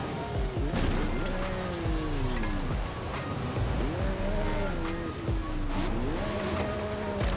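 A 2023 McLaren Artura in Forza Horizon 5 tears through sand dunes, its engine climbing repeatedly in rising rev sweeps between gear shifts, with rumbling off-road noise underneath.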